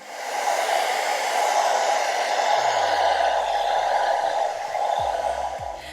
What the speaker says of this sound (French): c'est de le sécher avant au sèche-cheveux